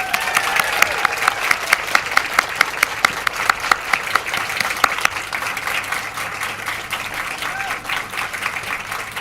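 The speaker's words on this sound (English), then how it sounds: "could I please ask all graduates to stand up" Graduation audience applauding at a university ceremony, a dense, sustained wash of clapping with sharper individual claps standing out early, then settling into steady applause that carries on to the end.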